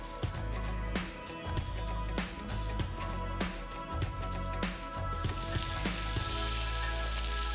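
Asparagus sizzles in butter in a cast iron skillet, a steady low crackle and spatter running throughout with occasional sharper pops, fairly quiet and without talk.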